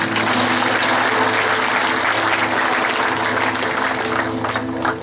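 Dense, sustained applause from a large audience at a family talk fills the whole stretch, a loud even roar of clapping that thins slightly near the end.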